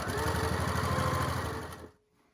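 A sewing machine runs a quarter-inch seam along a quilt's vertical row, a rapid even mechanical chatter close by that winds down and stops near the end.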